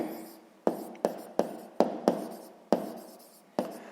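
A math expression is written by hand with pen on paper. Sharp scratchy strokes start and stop in quick succession, about nine short bursts, close and fairly quiet, with no talking.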